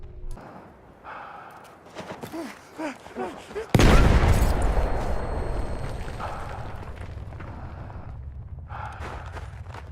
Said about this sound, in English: you will see a soldier taking a grenade with no Juggernaut equipped